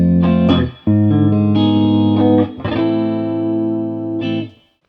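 Overdriven electric guitar through a VFE Pale Horse tube screamer-type pedal, several sustained distorted chords rung out one after another, warm and saturated, ending with a final chord that fades.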